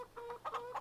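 Chickens clucking in the farming video game Farming Simulator 25, a short run of several soft, rhythmic clucks from a nearby pen with no talk over them.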